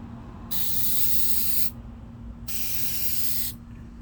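Two bursts of aerosol spray, each about a second long, hiss up close onto a daily-driver car's headlight during a restoration, with a short pause between them and no talking.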